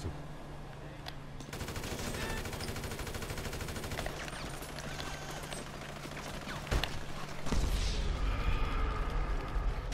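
Gunfire in the video game GTA V Online comes as dense, rapid automatic bursts mixed with sharper single shots, loud and nearly continuous throughout, with some game ambience and faint voice chat underneath.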